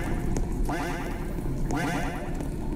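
Duck quacking in a Roblox obby game, two loud nasal quacks spaced about a second apart over a constant background hum.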